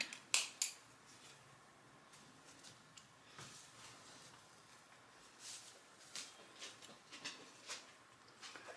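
Sharp snips from dull scissors come quietly in scattered bursts, a few crisp cuts near the start and more irregular clips later, with no talking.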